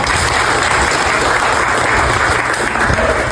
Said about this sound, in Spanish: Un aplauso a los muchachos